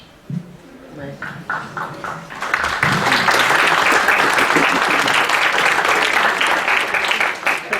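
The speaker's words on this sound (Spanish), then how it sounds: "Muchísimas gracias por el aplauso" An audience at a book presentation breaks into applause, starting with a few scattered claps and swelling into loud, steady clapping that fills the room, with some speech early on.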